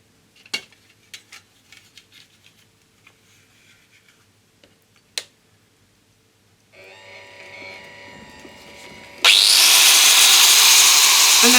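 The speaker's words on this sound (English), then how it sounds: "Then I've got an angle grinder with the flap wheel on it, and all I do is go carefully up and down there" Scattered metallic clinks and taps in a quiet workshop give way to a motor spinning up, then an angle grinder with a flap wheel bites into a metal roller for an etching press, producing a loud, steady, harsh grinding roar.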